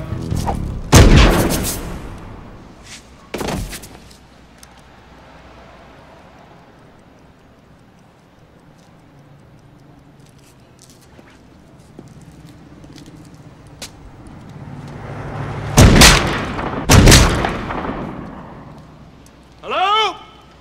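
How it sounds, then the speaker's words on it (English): Gunfire in the film Last Action Hero: loud, close sharp blasts ring out early, then a long quiet stretch with low rumble, then more heavy bangs near the end, with talking around them. "I've just shot somebody."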